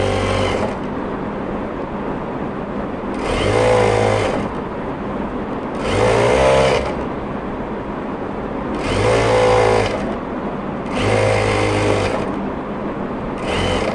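A sewing machine stitches a 1 cm seam on trouser panels in short bursts, roughly five runs of a couple of seconds each separated by pauses, loud and close with a faint background hum.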